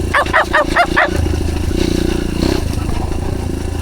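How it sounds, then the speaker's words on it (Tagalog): Dogs bark four quick times, close by, beside a trail in Palawan, then fall quiet as a steady motorcycle engine hum continues underneath. "Kaso maraming aso dito."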